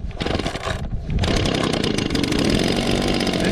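A small two-stroke engine on a string trimmer sputters, catches and roars up close, loud and buzzing, rising to a steady high rev after a brief stumble.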